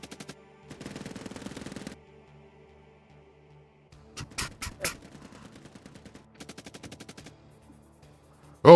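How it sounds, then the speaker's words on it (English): Bursts of automatic gunfire crackle through a firefight: a rapid rattle at first, then sharp loud volleys of shots and another burst of rapid fire after a pause. "When did we get into a fucking firefight?"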